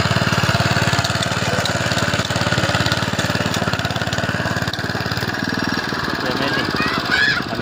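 A tractor engine running in a farm field, a loud, close, steady chugging drone with rapid regular knocking that continues throughout, briefly shifting near the end.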